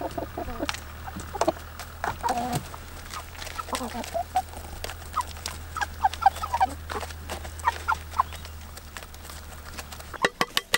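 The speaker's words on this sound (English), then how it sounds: "So I'm just feeding the chickens." Chickens cluck in scattered, soft bursts at sunrise feeding time on a rural Portuguese homestead, the clucks fairly faint over a low steady hum, with no talking.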